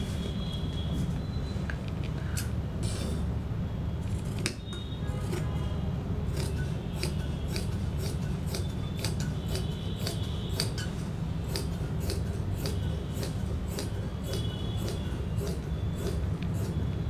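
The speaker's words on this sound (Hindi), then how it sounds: "तो अब हम इसमें कैंची लगा देते हैं" Scissors cutting fabric for palazzo pants, a long run of crisp, closely spaced snips and blade clicks near at hand, steady and rhythmic with no talk.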